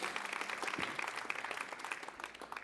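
A church audience claps in continuous applause, a dense even patter of many hands, moderately loud and unbroken, with faint voices mixed in.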